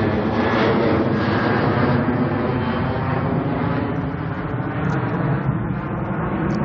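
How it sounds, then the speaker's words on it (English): A fixed-wing airplane takes off near an airport, producing a loud, continuous engine roar that holds steady throughout and fades only slightly toward the end. "There's actually an airplane taking off, so I'm hearing all that noise there."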